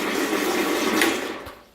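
A blender whirring as it mixes Opti-Greens 50 powder with water, a loud continuous motor whine that runs steadily then winds down near the end.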